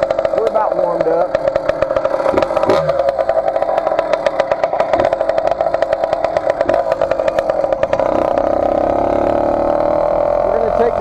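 A 49cc motorized bicycle engine runs close by, buzzing with a rapid, uneven two-stroke putter that rises and falls slightly, while a person talks over it.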